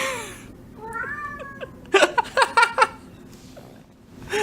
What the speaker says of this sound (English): she's just sitting in the other room meowing.